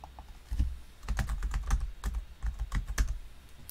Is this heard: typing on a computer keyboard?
yes